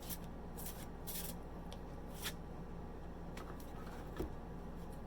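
Tarot cards shuffled slowly by hand, soft papery rubbing and riffling in a few short bursts over a steady low background hum, close and quiet.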